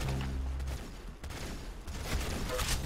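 Rapid gunfire from a gun in the Roblox shooter Arsenal, a dense crackling burst of shots running through the whole stretch with a short gap near the middle, fairly quiet overall with no talking.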